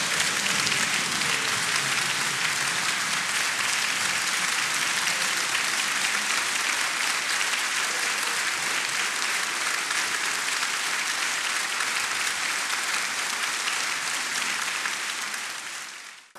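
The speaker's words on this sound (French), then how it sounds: "Conforté par l'intensité des applaudissements" Parliament deputies applaud in a long, dense, sustained round of clapping that fills the hall at even loudness before fading out at the very end.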